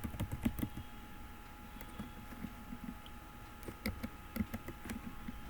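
Computer keyboard typing while editing a file in the Vim text editor, with quick irregular bursts of soft clicking keystrokes and short pauses, fairly quiet and close.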